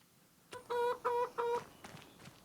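Chickens in the Farming Simulator 25 video game give three quick, evenly spaced clucking calls at moderate loudness over a quiet game background.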